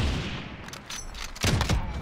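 Sniper rifle fire in the video game Call of Duty: Modern Warfare, a loud crack sounding over dense, noisy game ambience, with a second sharp burst shortly after.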